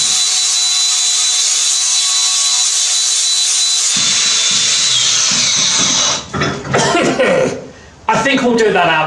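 A power tool grinds rust off metal ahead of welding, a loud high steady whine close by that then drops into choppy bursts, with people talking and laughing over it.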